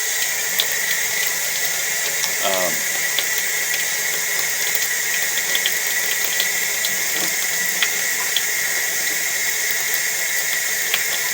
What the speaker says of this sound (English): we'll run water for a second